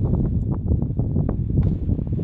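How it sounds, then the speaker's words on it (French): Outdoor wind buffets a microphone during a bicycle wheelie tutorial, producing a steady low rumbling roar with gusty bursts for a couple of seconds and no speech. "C'est pas très pratique avec le vent, parce que le vent est bien."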